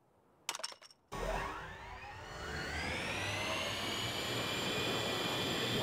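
Jet aircraft engine in Garry's Mod WAC Aircraft spooling up after a few sharp clicks, a rising whine climbing in pitch over a steady roar that grows louder and holds.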